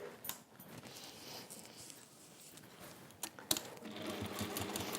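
A sewing machine stitches down the edges of a quilt held with quilter's clips, a steady low whirring hum running for several seconds at moderate, close level with a few sharp clicks.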